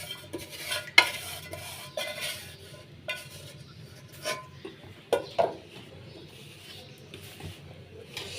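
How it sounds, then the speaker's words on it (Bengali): Rice flour and dragon fruit dough mixed by hand in a bowl for steamed pitha, giving soft, close stirring and squishing with a few sharper clinks of a utensil or bowl at intervals, no talking. "সুন্দর করে মাখাই নেব।"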